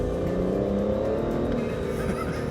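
Aston Martin DBS grand tourer driving through a canyon, a steady engine drone and road rumble heard from inside or close by, continuous and moderately loud with no talking.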